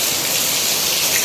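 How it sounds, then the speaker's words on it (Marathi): Heavy monsoon rain pours down in a dense, loud, continuous hiss, close by and with no voices. "मस्त जोरदार पाऊस आला"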